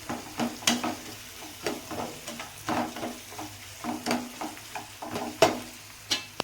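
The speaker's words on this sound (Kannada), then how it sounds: "ಇದು ಚೆನ್ನಾಗಿ ಹಸಿ ಸ್ಮೆಲ್ ಹೋಗೋ ತನಕ ಹುರಿಯೋಣ. ಈ ಥರ ಫ್ರೈ ಮಾಡೋಣ." Mint masala for pudina avalakki frying in a pan, a soft steady sizzle broken by repeated scraping stirs and light clinks of a spoon against the pan.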